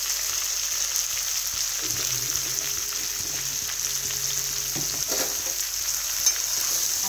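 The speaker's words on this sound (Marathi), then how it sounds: "आता याला एकदा हलवून घे" Salted brinjal being stirred in a pan gives a steady, hissing fry with a few scraping turns and faint clinks, moderately close, with no voices over it.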